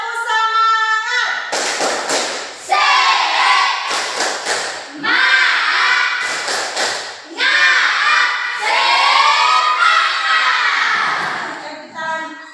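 A group doing the Indonesian spirit clap, tepuk semangat: loud rhythmic bursts of clapping alternate with chanted group voices in a call-and-response pattern.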